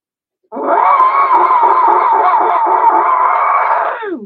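A group of people lets out one long shared scream, loud and sustained for about three and a half seconds after a short silence, then trailing off at the end.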